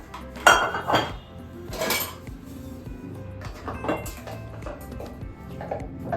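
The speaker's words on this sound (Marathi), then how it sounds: "भांड्यामध्ये काढून घेते सगळं" Homemade butter is scooped out into a pot, heard as close clanks and clinks of metal utensils against the vessel, a few sharp knocks followed by softer scraping.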